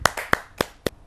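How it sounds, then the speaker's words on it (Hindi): A few hands clapping at a Hindi poetry recital, five sharp distinct claps in an uneven rhythm, close and clear with no voices. "जोरदार तालियों के साथ"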